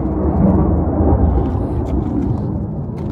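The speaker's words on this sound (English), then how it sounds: "We're near an Air Force base and sometimes they're out doing maneuvers" Military aircraft from a nearby Air Force base rumble overhead in a continuous, loud, low roar that slowly fades slightly.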